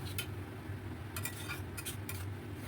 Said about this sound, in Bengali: এবার খুব ভালো করে আমি কষাতে থাকবো। এখন আমি গ্যাসের ফ্লেমটাকে লোতে রেখেই কষাবো